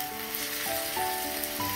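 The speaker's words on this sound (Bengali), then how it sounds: "মধ্যে পেঁয়াজ আর রসুন কুচি ভাজতেছি" Onion, garlic and dried fish sizzle while frying in a pan at home, a steady close crackling hiss with faint tonal lines underneath throughout.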